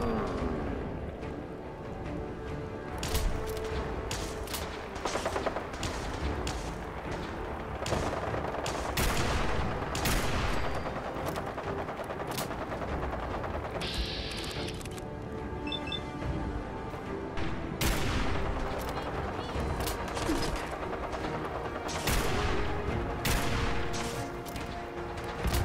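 Repeated loud double-barrel shotgun blasts in the Fallout 4 video game, sharp booming shots fired in irregular bursts throughout, close and dominant over a steady game background.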